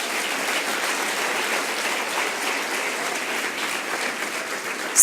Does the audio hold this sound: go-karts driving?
no